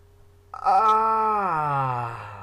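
A person's long drawn-out yawn, starting with an open breathy rise and sliding down into a low, groaning moan that fades slowly, close to the microphone.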